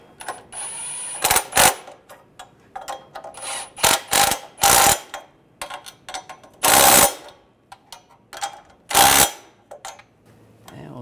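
A ratchet wrench tightens nuts on the exhaust manifold bracket studs of a 2013–2016 Dodge Dart, giving about nine short, loud bursts of rapid clicking separated by brief pauses.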